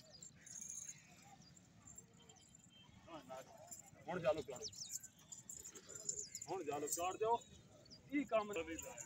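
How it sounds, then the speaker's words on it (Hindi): Goats, including a dairy goat, bleat at a livestock market in Talagang or Chakwal, with several distinct calls in the second half over quiet background murmur and market noise. "दूध वाली बकरी है"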